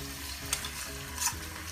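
Frozen peas tipped into cumin seeds frying in a pan, giving a steady close sizzle with a couple of brief stirring scrapes and no talk.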